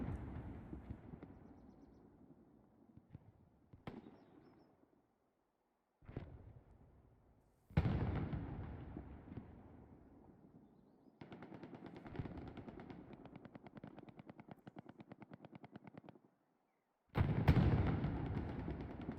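Tank cannon fire and heavy explosions on a Hell Let Loose battlefield, several loud booming hits with long rumbling tails, separated by short gaps and dense stretches of distant gunfire.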